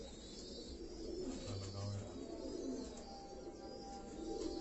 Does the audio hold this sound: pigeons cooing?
yes